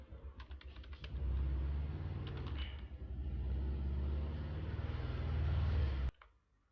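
Keys typed on a computer keyboard while entering an IP address for VLAN 99 in a basic switch configuration, heard as a steady clatter of keystrokes close to the mic for about five seconds under a dense, constant hum.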